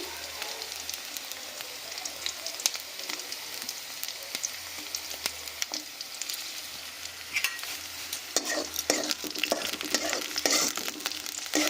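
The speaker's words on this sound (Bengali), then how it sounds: "ফোড়ন দিয়ে এবার দিয়ে দিচ্ছি পেঁয়াজ কুচি" Chopped onion and broken green chillies fry in hot mustard oil, a continuous sizzle broken by repeated scraping and clattering of a spatula stirring the pan, growing busier toward the end.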